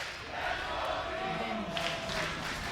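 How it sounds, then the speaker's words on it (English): Crowd of esports fans chanting for G2 inside the Berlin studio before a League of Legends World Championship match, a steady, dense roar with rhythmic vocal swells throughout. "Live with the sounds of G2 chants"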